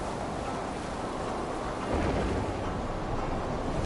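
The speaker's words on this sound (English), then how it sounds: "Do not lose your course through the storm." A video-game thunderstorm with heavy steady rain roars as a dense hiss, and a deep rumble of thunder swells in partway through and keeps on.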